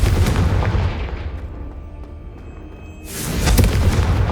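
A Confringo blasting spell exploding in Hogwarts Legacy, a loud booming blast that fades to a rumble, followed by a second heavy explosion swelling up near the end.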